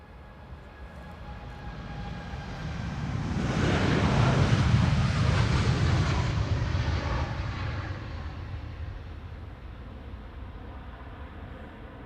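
A plane taking off at Amsterdam Schiphol Airport, its broad jet roar swelling from a distance to a loud peak at mid-clip and then fading away as it climbs, with no talking.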